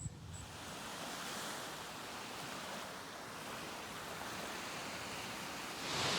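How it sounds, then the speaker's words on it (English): Ocean waves at a Florida state park beach wash in a continuous broad rush of surf, with wind buffeting the microphone and a swell building louder near the end. "This is why I come to the beach."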